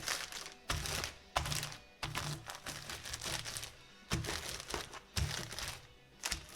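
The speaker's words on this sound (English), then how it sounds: "I throw them in a plastic bag, lay it flat, use my rolling pin" Pecans in a plastic bag are crushed with a rolling pin on a kitchen counter: repeated crinkling, crunching thumps in an uneven rhythm, close by.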